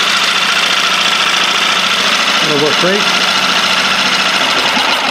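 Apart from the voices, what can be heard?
LEHR 5.0 outboard engine idling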